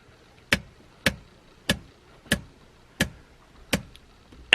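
Handbrake lever on a Nissan 240SX being ratcheted, seven sharp evenly spaced clicks about two thirds of a second apart, close and distinct against a quiet background.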